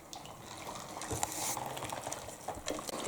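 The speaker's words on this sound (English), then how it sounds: "And now we're just going to stir this all up." Spicy pinto beans are stirred in a crockpot, a soft wet sloshing and scraping with a faint clink of a utensil, quiet and close, without speech.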